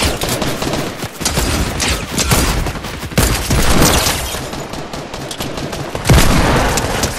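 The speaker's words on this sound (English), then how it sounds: "More gun shots." Loud, dense gunfire from the Fortnite video game fills the stretch, with rapid overlapping shots, bursts and booms that barely pause, and no talking.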